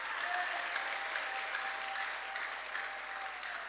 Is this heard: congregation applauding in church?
yes